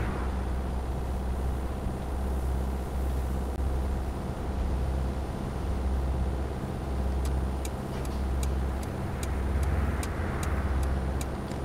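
A 2019 Toyota Corolla in Euro Truck Simulator 2 drives on the road with a steady, droning engine hum under a constant rushing wind noise, while a regular ticking like a turn signal clicks in near the end.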